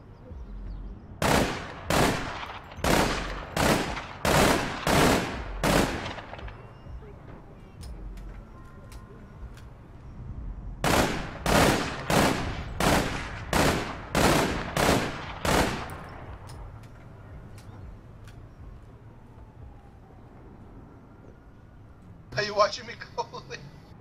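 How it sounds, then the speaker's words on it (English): Gunfire in APB: Reloaded: two separate bursts of evenly spaced, loud, close shots, six or seven rounds each in a steady rhythm, then a brief crackling burst near the end. "I was shooting at him."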